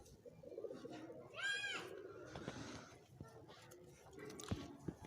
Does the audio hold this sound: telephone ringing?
no